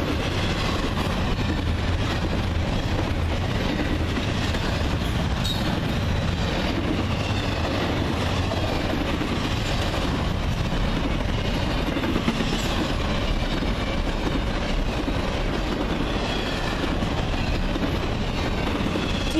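A CN freight train passes north of Conrath, producing a steady, loud rumble of railcars with clickety-clack wheel noise that carries on throughout without pause.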